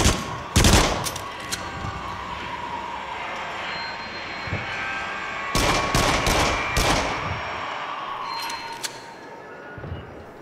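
Gunshots fired at cameras during a haunted rollercoaster ride in the VR shooter Rush of Blood: sharp bursts near the start and a cluster of shots in the middle, over a steady rumbling track ambience.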